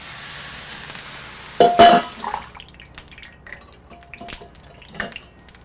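Water poured into a hot pan under a stainless steel lid to steam bolillo rolls for hot dogs, giving a sharp loud burst of sizzling hiss that fades into soft crackles and small drips.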